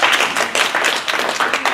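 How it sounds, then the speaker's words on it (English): A university class audience at Rutgers breaks into a dense, steady round of applause, many hands clapping close by for the whole short stretch with no voices over it. "huge round of applause for yourself."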